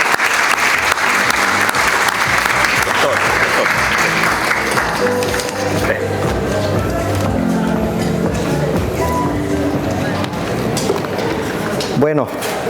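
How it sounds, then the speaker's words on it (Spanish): Audience applause welcoming an accountant speaker to the stage, a dense, loud clapping crowd that thins partway through while a voice talks over it. "El aplauso de usted."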